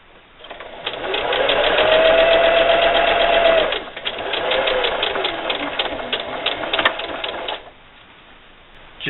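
Sewing machine running a seam on bunny bag fabric, a loud close motor whir in two long runs with a brief pause between for a backstitch, then stopping and going quiet.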